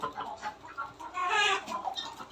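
Chickens cluck repeatedly in a farm garden as they peck at food, a steady run of short nearby calls with one louder burst in the middle and no voices over them.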